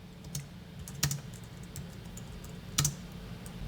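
Light keystrokes on a computer keyboard while a spreadsheet formula is entered: a few soft, scattered clicks over quiet room noise, with no voice.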